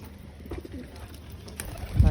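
A white Madras chatial pigeon gives a brief, soft cooing call close by over a low background rumble, ending in a burst of low thumping noise.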